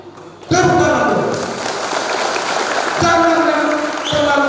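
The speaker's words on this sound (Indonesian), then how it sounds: "Tepuk tangan dulu." A crowd at a political party gathering claps in several bursts, starting abruptly, fading slightly, then surging again twice, loud and close, with a voice speaking over parts of it.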